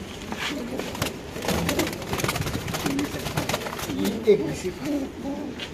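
Several red pigeons kept for sale murmur in soft, low, repeated coos close by, partly under men's conversation.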